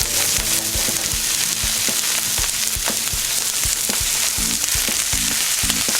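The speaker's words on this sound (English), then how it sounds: "And then skin side down, and add our salmon in there just like that." Alaskan salmon fries skin side down in a pan with garlic and onion, giving a loud, dense crackling sizzle with popping spatters throughout, close and continuous with no voices.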